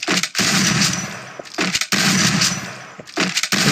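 Rapid automatic gunfire in the mobile shooter Free Fire, three loud close bursts of fast cracking shots, each lasting about a second, separated by short pauses, with no voices.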